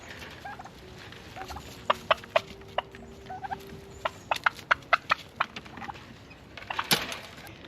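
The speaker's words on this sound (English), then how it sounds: "I've got 2 turkeys getting out" Sharp, short turkey gobbles and clucks burst in quick rapid series, fairly close, over a quiet outdoor background with a louder flurry near the end.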